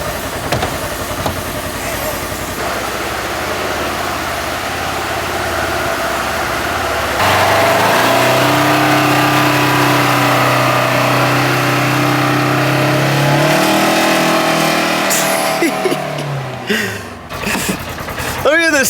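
A Polaris side-by-side engine runs at a smooth, quiet idle with a low steady drone, heard from close by while people talk over it and shifting noises come and go.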